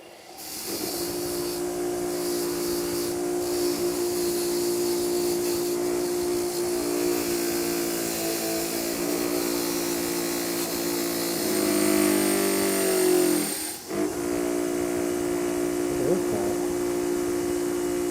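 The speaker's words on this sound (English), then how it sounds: "I'm going to take everything over to the wire wheel now, clean everything off" A motor-driven wire wheel cleans the metal parts of a rare Warren Tool of Ohio mechanical axe, The Great Divider. It gives a steady, loud whining hum with gritty hiss, which briefly bogs and shifts as parts press against it, then cuts out and restarts.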